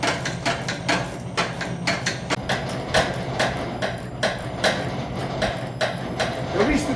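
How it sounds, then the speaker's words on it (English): An Icon ratchet wrench clicks in rapid bursts while working in tight spaces on a 6.0 Powerstroke engine, sharp close repeated ticks in strokes with a person talking over them. "I sure do like these icon ratchets for these tight spaces"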